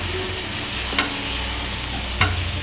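A spoon scrapes twice through palak dal with coriander in a pot over a steady sizzling hiss, the two stirring strokes brief and close with no voices.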